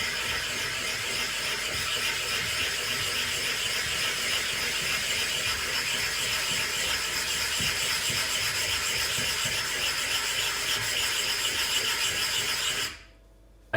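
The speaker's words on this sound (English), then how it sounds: "I continue flattening it. I try to press evenly on the black stone and just" A flattening stone rubbed back and forth across a wet #400 grit water stone, a continuous gritty, slurry-laden scraping that stays loud and close for the whole stretch before cutting off abruptly at the very end.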